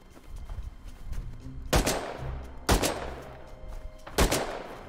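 Explosive ammo fired in modded Rust, a survival video game: three sharp, loud single shots spaced about a second apart, each with a short echoing tail, over a low rumbling background.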